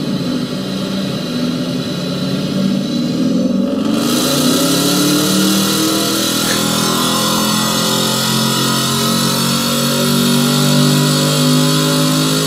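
Loud, sustained engine roar of a 630 hp Mercedes SLS 63 AMG climbing in pitch as it revs hard on a dyno, continuous throughout with no talking.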